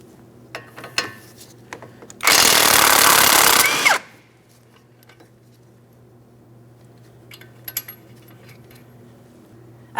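A power tool whirs loudly for about two seconds, spinning a strut mounting nut back onto its threads on a 2004-2008 Pontiac Grand Prix rear strut assembly, then stops, followed by faint metallic clinks and handling noises.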